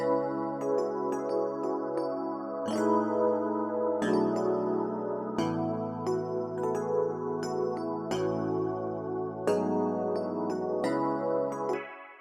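A 90s-style R&B beat built from a sustained ambient pad layered under a piano melody, playing steadily and loud with chord changes every couple of seconds and no voices.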